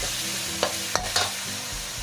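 Sator beans and minced pork stir-fried in a pan, a steady close sizzle with a few brief clinks of the spatula scraping and tossing the ingredients.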